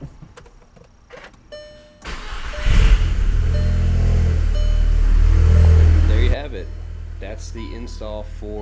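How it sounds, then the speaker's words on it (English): A 2012 Volkswagen Golf R Mk6 engine cranks and fires, then runs at a loud, steady idle for several seconds before cutting off abruptly, with clicks and faint sounds around it. "we can try to start this car"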